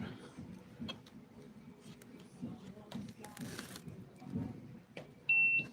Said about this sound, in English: You tap and hold it there for the beep.